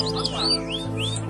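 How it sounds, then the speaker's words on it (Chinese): Canary singing in a cage hung in a tree at a bird market, a clear rapid run of bright chirps and trills, close and loud over a low steady hum. "忽然一阵清脆的连口芙蓉鸟叫声"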